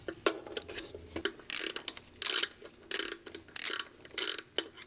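A ratchet loosens the bottom-row intake manifold bolts on a Volvo 850 Turbo, giving bursts of rapid clicking strokes with short pauses between them, close and alone.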